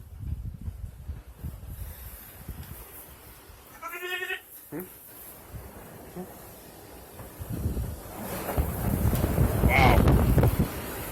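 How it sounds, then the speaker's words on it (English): Gusty wind buffets the microphone around a goat barn, with a goat bleating briefly partway through and the roar building loud toward the end; a voice speaks near the start. "Wow. That is windy."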